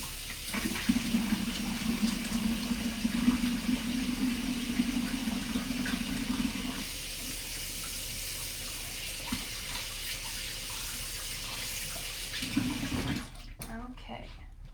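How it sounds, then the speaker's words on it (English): A kitchen tap runs steadily as hands are washed beneath it. The water hisses and splashes for several seconds, then cuts off near the end. "let's wash our hands together"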